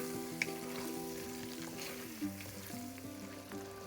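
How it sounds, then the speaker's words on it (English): Chopped tomatoes fry and get stirred in a pan for an Indian curry base, giving a faint, even sizzle with a few soft stirring knocks under steady background music and no voices. "Stirring the tomatoes, cook the tomatoes until the raw smell goes away and it becomes mushy."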